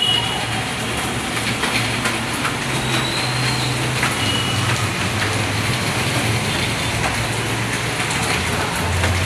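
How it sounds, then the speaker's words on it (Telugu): Steady rain falls outdoors, a dense continuous hiss of drops on surfaces throughout, with a low rumbling hum underneath and no talk. "అక్కడ ఇప్పుడు మాత్రం వర్షం పడుతుంది"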